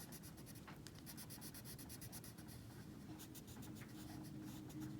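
Colored pencils scratching across a stamped, embossed fairy card, a steady close scribbling rasp with quick repeated strokes throughout and no talking.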